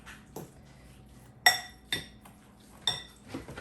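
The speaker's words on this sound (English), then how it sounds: "I'm gonna take a fork to mix this garlic up." A fork clinks against a bowl while mixing freshly grated minced garlic, giving four or five distinct metallic taps at irregular intervals against a quiet kitchen background, with no talking.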